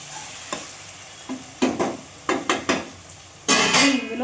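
Frying in a pan for Andhra fish pulusu, with a few sharp clattering stirs and scrapes against the pan, then a loud, close burst of sizzling that fills the last second.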